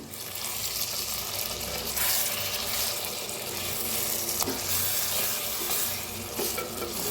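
Softening tomatoes stirred in a hot pan over low gas, a continuous sizzle with scraping spoon strokes and a few sharper clinks against the pan, close and fairly loud with no speech.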